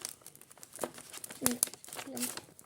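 Paper surprise packet being handled and opened, with close crinkling and rustling bursts of crumpling paper, some tearing-like crackles, and someone talking over the handling.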